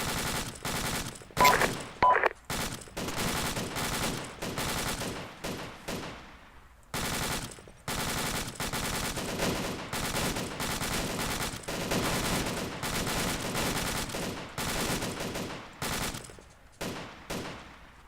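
Sustained automatic gunfire in Arma 2 with rapid machine-gun bursts and rifle shots, broken by brief pauses, loud and close for most of the stretch.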